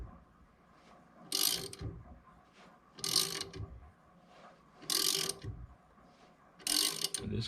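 A rear wheel bearing on a 1974 MG Midget is pried out against threads, giving four loud, evenly spaced metallic scraping bursts with quieter mechanical rattling between them and no speech.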